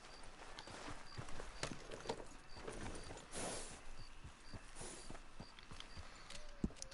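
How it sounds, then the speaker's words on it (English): Horse hooves clip-clop in the Red Dead Redemption Online video game, a quiet, uneven run of soft thuds at walking pace, fairly faint against low background sound. "Horsey."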